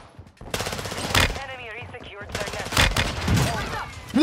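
Rapid video-game gunfire crackles in loud bursts and volleys through a multiplayer loadout match, mixed with a player's excited talk and game voice chatter.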